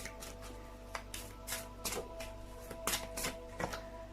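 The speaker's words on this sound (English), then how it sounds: "So many cards on the table. Can shuffle that way." A deck of oracle cards is shuffled on a table during a reading, giving quick, repeated riffling bursts in an even rhythm, close and fairly quiet, with no voices.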